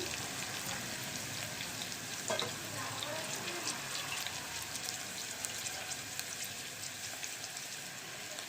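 Curry leaves sizzle in hot tempering oil for a tomato and pepper rasam. A dense, steady crackle of frying holds throughout at a moderate level, with a few sharper pops.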